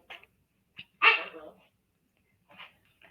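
A dog named Bullet barks in the background, a few short separated barks and yips with one louder, longer bark in the middle and quiet gaps between.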